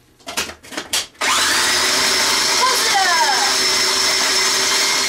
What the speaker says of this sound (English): I've got a tiny little food processor to go with the tiny little kitchen, so I might have to do this in a few batches